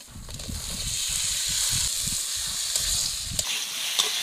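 Boiled taro and potatoes hit hot fried spice paste with turmeric and chili powder, giving a continuous close sizzle with dull stirring thumps and scrapes and no talk.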